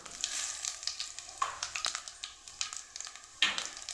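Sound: cumin seeds spluttering in hot oil

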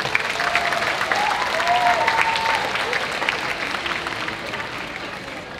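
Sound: audience applause for qasidah ensemble

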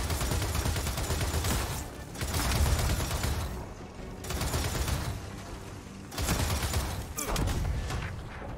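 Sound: turret firing in Gears of War 4 video game

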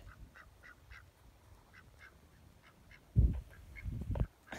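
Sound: ducks quacking on frozen pond

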